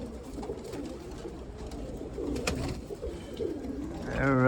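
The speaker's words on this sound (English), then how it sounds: "These are the Cumulets. Beautiful birds." Cumulet pigeons in a loft give a steady, low, rolling coo throughout, a close and continuous murmur, with a short human voice breaking in at the end.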